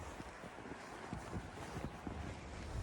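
Wind blowing through a Colorado snowstorm, a faint, steady rushing with soft gusty thumps against the microphone and no voices.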